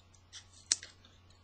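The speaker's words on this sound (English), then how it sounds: "I just cut a little corner off of each one" Scissors snipping a small corner off paper album pages, a few quiet soft rustles followed by one crisp, close cutting click, alone in a quiet room.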